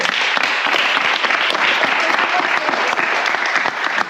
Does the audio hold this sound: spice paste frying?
no